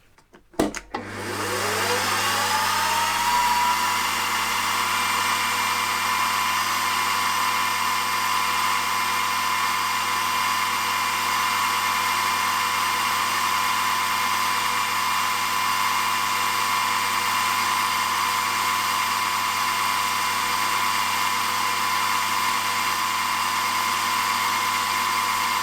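A steady, loud high-pitched drill whine running continuously after a brief start-up, with no pauses or talk, as a drill bores into a metal cylinder head for a model opposed-twin engine.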